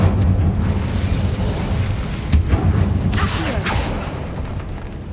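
Incendio fire spell cast in the video game Hogwarts Legacy, a roaring fiery burst with rumbling booms and a couple of sharp whooshing flares over steady game ambience.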